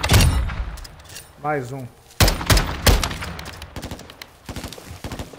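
FAL rifle fire in Call of Duty DMZ cracks out in sharp, close bursts of several rapid shots separated by pauses, mixed with loud voices talking over the action.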